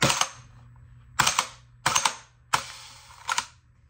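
Marushin M1 Garand gas blowback airsoft rifle fired four times, each a sharp close snap with the clack of the full-travel bolt cycling, spaced under a second apart in a quiet room.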